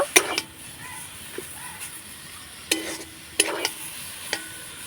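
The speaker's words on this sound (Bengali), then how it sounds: "একটুখানি দিয়ে নাড়াচাড়া করে নামিয়ে নিব" Cabbage snack mixture stirred in a pan with coriander leaves, a soft low sizzle broken by a few sharp spoon scrapes and clinks against the pan.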